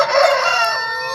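A one-year-old rooster of about 3 kilograms crows once, close and loud, a bright sustained call fading out over a second, with no one talking.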